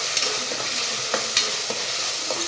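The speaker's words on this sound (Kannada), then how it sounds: "ಈಗ ಚೆನ್ನಾಗಿ ಮಿಕ್ಸ್ ಮಾಡ್ಕೊಂಡೋಣ" A spoon scrapes and stirs through a pan of frying vegetable kurma base with ginger-garlic paste, producing a soft continuous sizzle broken by several sharp clinks and scrapes.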